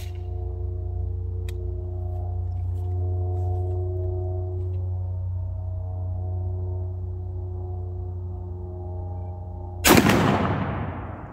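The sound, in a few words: 12 gauge shotgun firing Browning BXS sabot slugs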